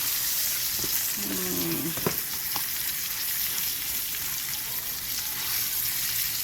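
A T-bone steak sizzles steadily in a hot pan just after being turned, a continuous close frying hiss with a couple of brief clinks or scrapes partway through, and no talking.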